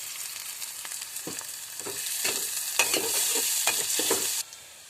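Chopped onions fry in oil with a steady close sizzle while a spatula stirs in scraping strokes, the hiss swelling louder toward the end before cutting off abruptly; no one speaks.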